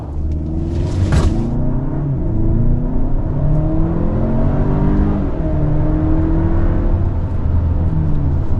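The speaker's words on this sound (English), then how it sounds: "there we are, accelerating swiftly with the 2024 Sorento" A 2024 Kia Sorento SUV with a 2.5-liter turbo four-cylinder engine revs and pulls hard under steady acceleration, a loud continuous rumble with rising whine and no talking.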